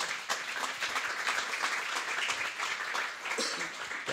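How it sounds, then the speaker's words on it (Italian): Applause from a live audience at a music and talk event, a dense, steady patter of clapping with faint voices mixed in, held at an even level for a few seconds. "io già direi che possiamo partire col primo applauso"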